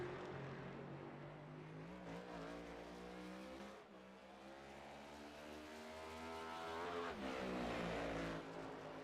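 A simulated Ford Mustang stock car drones steadily around Rockingham Speedway in iRacing, its engine note rising and falling through the laps, heard alone without talking.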